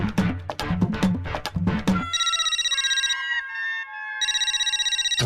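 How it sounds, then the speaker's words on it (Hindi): Someone talks briefly, then a phone ringtone plays a rapid trilling electronic ring in repeated bursts with a short pause between them. "मैं कब से भिड़े भाई को फोन कर रहा हूँ, वो फोन ही नहीं उठा रहे हैं।"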